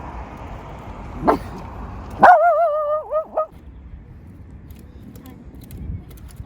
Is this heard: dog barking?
yes